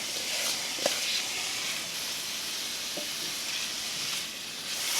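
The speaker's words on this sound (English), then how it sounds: "I'm going to add my peppers right now, and these can cook together." Bell peppers sizzle and fry steadily in a pan alongside sweated onions for a ratatouille, a constant close hiss with a few soft stirring clicks and no talking.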